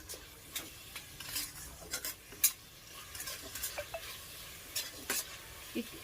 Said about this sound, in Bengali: লবণ দিয়ে দিচ্ছি ভালোভাবে এবার এটাকে মিশিয়ে নেব গ্যাসের ফ্লেম কিন্তু মিডিয়ামেই থাকবে